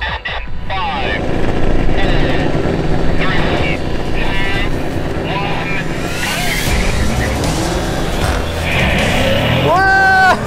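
A BMW M5 and Mercedes E63 launching side by side in a quarter-mile drag race: loud engine roar and rising whine build and sweep upward through gear changes, with wind buffeting over the microphone and tyre-like squeals near the end.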